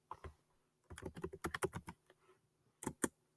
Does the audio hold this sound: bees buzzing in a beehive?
no